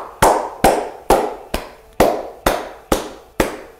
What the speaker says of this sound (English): Activating your heart points in the middle of the palms by clapping.